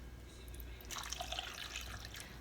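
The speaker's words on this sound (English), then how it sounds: "I'm going to add just about half a cup of water." Water trickling and splashing as about half a cup is poured into a pressure cooker of Boston baked beans, a soft steady dribble starting partway through over a low hum, fairly quiet and close.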